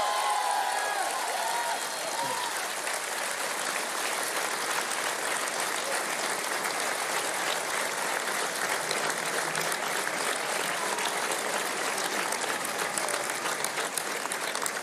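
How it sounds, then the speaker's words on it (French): A large crowd at Emmanuel Macron's final 2022 presidential campaign rally applauds health professionals in sustained, dense clapping that fills the hall evenly for a long stretch. "Je voudrais ici que vous puissiez les applaudir partout sur le territoire."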